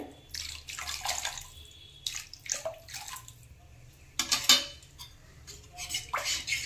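Water poured into a pan of rohu fish curry with green mango pickle spices, coming in several splashing, trickling bursts with light clinks of pan and utensil in between.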